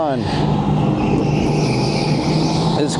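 A race car engine in the racing video game SuperCharged drones loud and continuous, a steady high-revving roar with rising tonal sweeps at the start and the end. A voice talks over it throughout.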